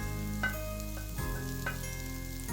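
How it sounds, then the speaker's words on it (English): Potatoes and onions sauté in butter in a pan over a low flame, a steady soft sizzle running throughout with a few faint clinks of stirring. "Keep sauteing them on low flame."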